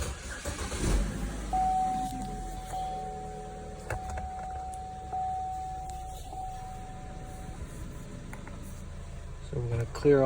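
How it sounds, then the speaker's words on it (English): A 2012 Buick Verano with its exhaust camshaft position sensor just replaced being started with the key, a short cranking burst that settles into a steady idle, with chimes and a voice talking nearby. "Now we're going to turn the car on"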